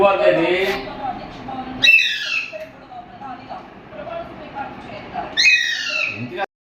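A parrot indoors lets out two shrill, rising squawks a few seconds apart, loud and close, while people talk throughout.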